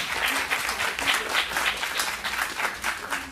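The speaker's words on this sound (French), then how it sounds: "Vous pouvez les applaudir" An audience at a French poetry competition on the theme of water claps for the organisers, a dense, lively round of many hands with small surges, close and continuous for a few seconds without speech.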